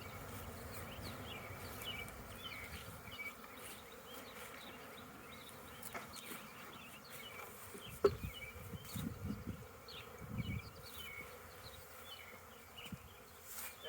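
Honeybees buzz faintly and continuously while a beehive is split on an urban farm, with a few soft knocks and handling sounds partway through and no voices.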